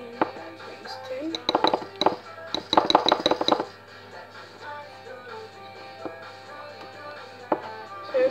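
Egg being stirred into chocolate mug cake batter in a mug: a busy run of quick clinks and scrapes of a utensil against the mug for a few seconds, then softer, sparser taps under a low background hum.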